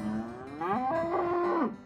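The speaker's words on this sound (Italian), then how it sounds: "qui troviamo le mucche di fuori" Cows mooing outdoors at an organic dairy farm near Magadino, a close, loud, drawn-out moo with rising and falling harmonic tones lasting nearly two seconds, no talking.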